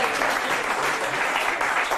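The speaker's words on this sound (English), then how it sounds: "give these guys a round of applause" Audience applause at a live magic show, a dense, steady wash of many hands clapping at close range, filling the whole moment without pause.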